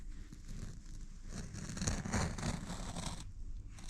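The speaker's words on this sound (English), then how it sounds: "just get the X-Acto knife and cut straight to it" An X-Acto knife slices through red bucket-seat upholstery for an old Chevy truck, giving a close, rough scraping and tearing rasp that swells in the middle and then eases off.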